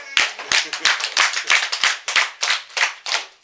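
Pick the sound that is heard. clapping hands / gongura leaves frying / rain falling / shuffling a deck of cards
clapping hands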